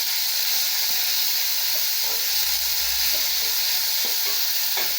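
Chopped green chilies sizzle and fry steadily in a hot pan for a banana stem stir-fry, with a constant broad hiss and occasional stirring scrapes, close and alone without talk.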